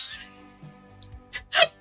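A short, sharp sneeze bursts out near the end, preceded by a quick breathy intake, with quiet background sounds before it.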